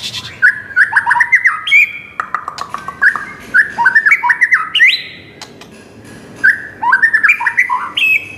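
A white-rumped shama (murai batu), a contest songbird, sings loud and close in sharp, bright whistled phrases and chirps, repeating in quick bursts with short pauses between, alone with no talk over it.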